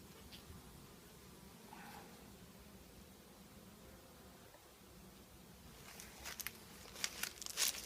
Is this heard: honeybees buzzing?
yes